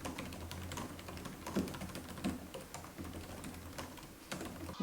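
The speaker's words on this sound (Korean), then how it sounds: "일반적인 키보드 타건 느낌입니다" Quick, light key taps on the non-mechanical keyboard of an ASUS FX504GM gaming laptop, an irregular run of soft clicks at close range with a few louder strokes.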